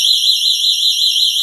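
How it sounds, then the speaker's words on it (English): A GE personal security window and door alarm sounds a loud, continuous high-pitched electronic siren with a fast warbling pulse, close and steady for the whole moment, with no talk over it. "So here's the alarm. I'm going to go ahead and switch it to alarm and brace yourself."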